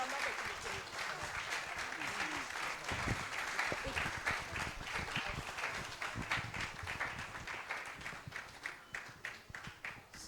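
A seminar audience applauding steadily, many hands clapping in a dense, continuous patter that carries on for around ten seconds.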